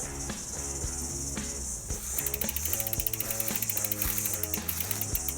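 A mountain bike wheel spins on its freewheel, giving a rapid, close metallic ticking that starts slowly and then runs in a steady even ratchet rhythm. There is no talking.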